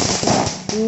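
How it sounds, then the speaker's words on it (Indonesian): Firecrackers and fireworks bursting during Chinese New Year celebrations in Singkawang, a quick run of sharp, close pops and crackles followed by a brighter whistling tone, with voices mixed in. "Yuk kita lihat kembang api yang jenis ini lagi."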